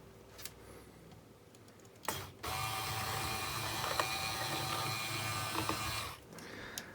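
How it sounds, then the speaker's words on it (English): A homemade linear actuator runs with a steady mechanical whir and ratcheting, gear-like clatter for several seconds, starting abruptly after a quiet pause and stopping near the end, fairly close and alone. "that's how you make a linear actuator"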